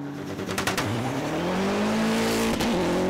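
An Audi Quattro AP4 rally car engine roars at high revs on a gravel stage of the 2019 International Rally of Whangarei in New Zealand, loud and close, pitch climbing through the gears with brief gaps at the shifts.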